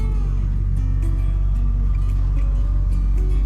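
A classic car creeps slowly into a garage, its engine holding a steady low idle-like rumble close by with faint mechanical ticks above, no talk over it.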